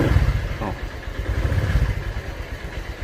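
A motorcycle engine gets a light blip of throttle, its low, uneven thrum pulsing with slight clatter close by, while someone talks in Indonesian over the sound.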